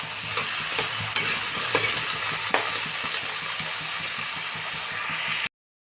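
Potatoes frying in hot oil in a pan: a dense, steady sizzle runs throughout, close and loud, with a few clanks of stirring before it cuts off.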